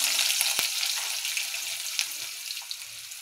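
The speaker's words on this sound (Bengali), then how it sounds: "পাতিলটা দিয়ে দিলাম পেঁয়াজ কুচি" Chopped onions hit a very hot oiled pot and fry with a steady, dense sizzle that slowly eases, close up, with a few sharp clinks near the start and no talking.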